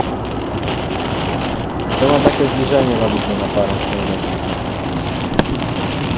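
Steady rain falls outdoors as a dense, even hiss that runs the whole time, with a person speaking over it partway through and a single sharp tap near the end.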